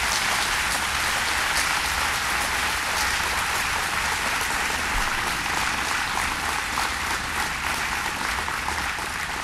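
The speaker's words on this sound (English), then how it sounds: "let's give him another round of applause" A large audience gives another round of applause at a governor's announcement event, steady dense clapping that holds at an even loudness throughout.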